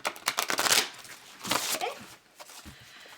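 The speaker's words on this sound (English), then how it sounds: "So we're gonna go ahead and shuffle this 3 times." A deck of tarot cards being shuffled by hand, quick papery riffles and slaps in uneven bursts, close and crisp with short pauses between.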